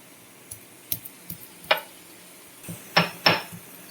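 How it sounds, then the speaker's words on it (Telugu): Four or five garlic cloves are coarsely pounded for a small-prawn curry: a handful of sharp, separate knocks at uneven intervals, with the last two strikes the loudest and closest, and no talking. "ఒక 4-5 వెల్లుల్లిపాయ రెబ్బలు దంచుకుని, ఇలా అయితే బాగుంటుందండి."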